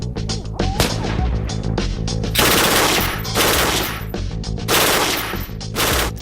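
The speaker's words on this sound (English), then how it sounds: "he's lined up a Mark 48 for me to play with." A Mark 48 machine gun fires several long bursts of rapid, loud, close shots separated by short pauses on a training range, with heavy blasts and ringing echo between volleys.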